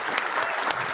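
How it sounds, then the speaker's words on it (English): A short burst of audience applause at a workplace talk on veteran inclusion, a full room clapping evenly throughout. "we're going to give everyone a round of applause"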